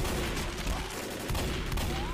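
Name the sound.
gunfire in Left 4 Dead video game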